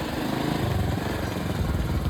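A pickup truck arrives with a Pandharpuri buffalo, its engine giving a steady, close rumbling drone throughout without a break.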